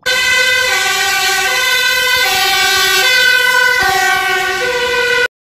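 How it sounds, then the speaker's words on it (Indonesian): A fire truck siren wails loudly and close by, a steady two-tone pattern alternating for about five seconds before cutting off abruptly, with no voices. "Wih, mobil damkar,"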